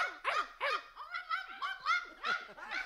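Several dogs bark and yelp in a quick, loud, close-up burst of repeated calls, with no talking over them.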